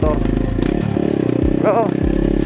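Motorcycles passing on a mountain road in Pangasinan, a steady engine drone with low rumbling passes and a brief rising rev, heard close under a rider's talking.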